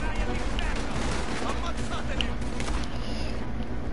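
Gunfire striking the player in a first-person shooter game, a dense continuous rattle of shots close up, steady and loud throughout, with a voice talking over it.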